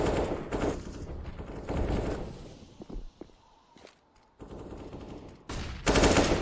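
Rapid gunfire bursts and footsteps from a Counter-Strike match between BIG and Fnatic at cs_summit 6, loud clustered volleys broken by short quiet gaps.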